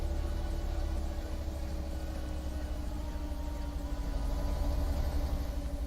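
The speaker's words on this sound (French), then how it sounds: "J'adore le bruit de ce camion, c'est vraiment ça," An old truck engine runs steadily with a continuous low rumble and even idling throb, close and loud throughout with no talking.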